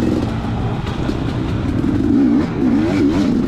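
A KTM 250XC dirt bike engine revs continuously during an OMRA motocross race at Mt Scott, with wavering pitch as the throttle rises and falls, loud and close throughout with wind noise.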